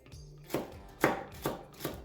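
A knife chops celery on a cutting board in four crisp, evenly spaced strikes, close and clear with no talking.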